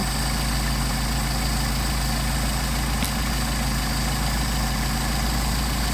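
A Mercedes 190SL engine with a Solex carburetor idles at 700 RPM, a steady, even low rumble that holds constant throughout with no talk over it.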